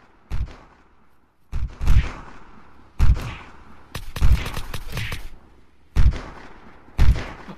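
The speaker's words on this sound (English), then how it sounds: "he's just sniping" Sharp, loud rifle shots from a sniper in the survival game Unturned crack out in a sequence of single blasts, some closely spaced, each with a booming echo, with quiet gaps in between.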